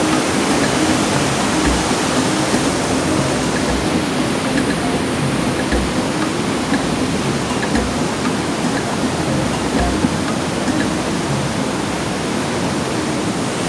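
Flood water rushes through a river in a steady, loud, broadband roar that continues without a break, close by and with no talk over it.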